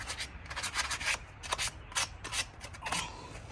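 Sandpaper from 3M rubs rust off a car wheel hub in short rasping scrubbing strokes, close and irregular, with small pauses between passes.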